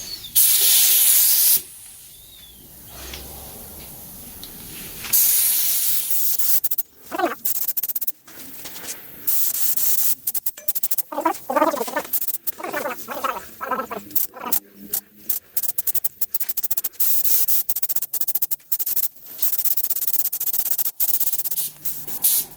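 An air spray gun laying a light first coat of paint on the Spitfire cylinder head of a 1941 Dodge WC army truck, heard as close steady hissing bursts that start and stop with short quiet gaps, with no talking.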